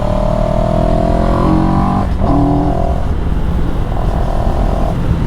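CFMOTO 700CL-X motorcycle engine pulling hard and rising in pitch, then dropping briefly as a gear changes before climbing again, loud and close under strong wind rush, no talking.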